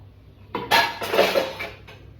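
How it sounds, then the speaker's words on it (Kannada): Dishes and utensils being washed in a home kitchen, a short burst of clattering pots, pans and cutlery close by with no voices. "ನನಗಿನ್ನು ಪಾತ್ರೆ ತೊಳೆಯೋಕ್ಕೆ ಅರ್ಧ ಗಂಟೆ ಬೇಕು"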